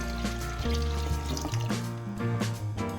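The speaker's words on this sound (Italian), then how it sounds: "Dopo ogni utilizzo è importantissimo svuotare subito il serbatoio e dare una risciacquata" Water running while rinsing a carpet and upholstery cleaner's tank and accessories, a loud, close splashing pour with tonal sink resonance, continuous and uninterrupted.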